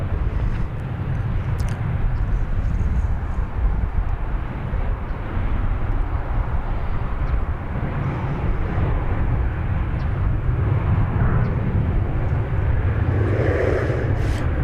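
A passenger airplane at DFW Airport makes a loud, broad steady roar that holds for the whole stretch, with a faint whine near the end.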